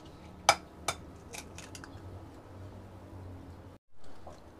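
Two eggs are cracked into a bowl with a couple of sharp taps, followed by softer clinks and scraping as they are beaten, then a brief pause near the end.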